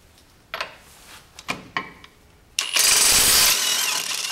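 A RIDGID 18V brushless cordless half-inch impact wrench breaks loose seven-year-old cap screws torqued to 223 foot-pounds: a few light clicks and knocks, then a loud close burst of hammering impact for about a second before stopping.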